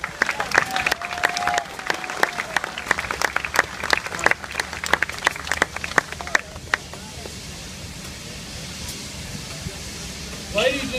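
A crowd at an outdoor press conference for a steam locomotive homecoming in Roanoke breaks into applause, with crisp, scattered claps that thin out and fade after several seconds into a quieter open-air background.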